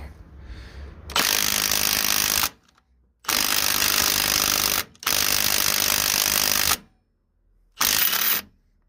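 A Milwaukee M18 Gen 2 mid-torque impact wrench hammers at an engine crank bolt in a salvage yard, loud rattling bursts of a second or more separated by short silent gaps, close up.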